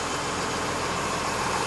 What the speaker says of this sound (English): Hear that the engine is in neutral